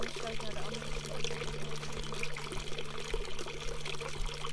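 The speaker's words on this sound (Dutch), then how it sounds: "Dat ze nu water van de ene stoot naar de andere stoot" Water poured from one pot into another, a continuous splashing trickle under a steady low hum, at moderate level throughout.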